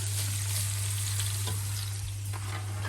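Onions drop into hot oil and fry with a dense, continuous sizzle, close and steady, with a faint low hum running underneath.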